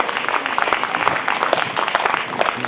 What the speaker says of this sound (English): There you go, ladies and gentlemen, a round of applause.